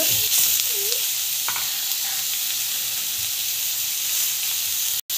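Tomato, green chilli and carrot sizzle and hiss in hot oil in a pan while being stirred, a steady bright frying crackle with a few scraping stir sounds near the start.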